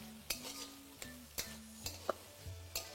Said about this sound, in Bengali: এবার এই ভেজিটেবলগুলোকে মোটামুটি 3 থেকে 4 মিনিট আপনাদের ভালো করে ভেজে নিতে হবে